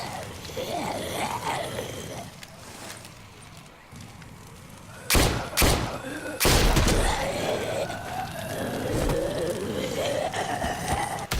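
Bursts of gunfire in The Walking Dead video game, a few sharp broadband cracks clustered mid-scene over continuous music and background noise, with voices talking around them.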